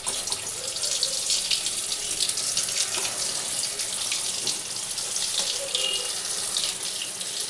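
Bread chops sliding into hot oil in a pan raise a steady, dense sizzle and crackle that holds at an even loudness, close by and with no voices over it.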